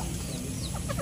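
Chickens cluck softly nearby in short, quick bursts over a steady background hum, with no voices.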